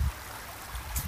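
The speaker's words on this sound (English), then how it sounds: "Much like this little stream here." A small stream of water flows with a steady, soft rushing and faint gurgle, close and continuous with no voices over it.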